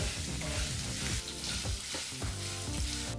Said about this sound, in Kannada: ಈ ಪದಾರ್ಥನೆಲ್ಲ ಚೆನ್ನಾಗಿ ಫ್ರೈ ಮಾಡ್ಕೋಬೇಕಾಗತ್ತೆ ಫ್ರೈ ಮಾಡ್ತಾ ಫ್ರೈ ಮಾಡ್ತಾ ಈರುಳ್ಳಿ ಸಹ ಪದರ ಪದರವಾಗಿ ನೀಟಾಗಿ ಬಿಟ್ಕೊಳ್ಳುತ್ತೆ